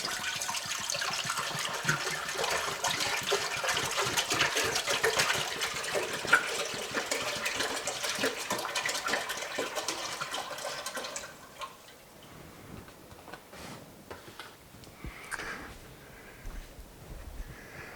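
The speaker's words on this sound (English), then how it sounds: "take the remaining amount of water, pour that into the large pot." Water poured into a large pot while making cranberry mead, a strong continuous gushing pour for about eleven seconds that then cuts off, leaving faint drips and small clinks.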